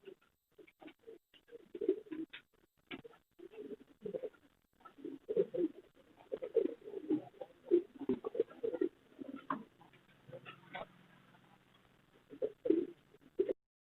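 Jacobin pigeons, a UK-line, home-bred, triple-hooded pair, coo in a loft with repeated soft throaty calls in uneven bursts, plus fluttering and shuffling noises nearby. No one speaks.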